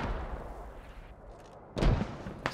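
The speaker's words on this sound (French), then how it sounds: "Putain, une grenade." A grenade blast in the Squad military shooter game lands as a loud, close thump with a sharp burst, followed moments later by a smaller pop, over a rumbling backdrop of distant gunfire.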